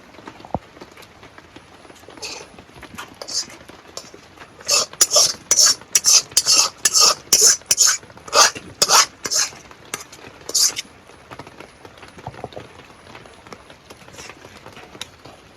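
Meat is stirred in a pot of khichuri with a spoon, a run of about a dozen loud rhythmic scraping strokes in the middle, framed by quieter clinks and soft sizzling, with no talk.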